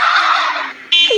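Cartoon turkeys gobbling in a silly talent-show scene, a loud burst of warbling gobbles, a brief pause, then another gobble ending in a sliding squawk.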